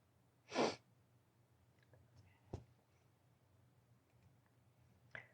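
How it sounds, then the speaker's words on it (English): A quick, breathy sniff close to the mic, followed by a few faint clicks and soft rustles, then another short sniff near the end. "Sorry for the sniffing, you guys."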